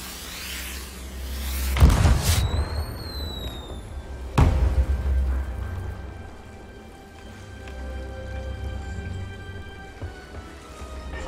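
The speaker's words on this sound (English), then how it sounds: "Now we'll try the Coral Reef Firework." Coral Reef firework set off in the pirate video game Sea of Thieves: two sharp crackling bursts a couple of seconds apart, with rising whistling trails, then a fading fizzling rain of sparks.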